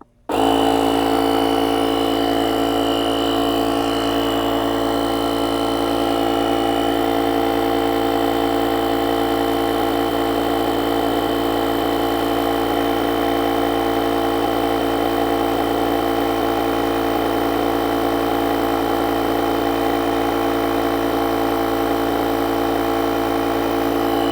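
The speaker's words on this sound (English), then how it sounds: "let's go ahead and try the portable tire pump" A portable tire air pump built into an emergency jump starter runs steadily, a loud close motorized drone with a constant buzzing hum that starts abruptly and holds unchanged throughout, no voices.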